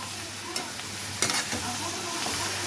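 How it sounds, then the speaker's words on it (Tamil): Tomatoes sautéing for a Tamil kaara chutney, a steady loud sizzle in the pan broken by a few scraping stirs of the spoon, close up and without speech. "இப்போ வந்து தக்காளி நல்லா வதங்கணும்."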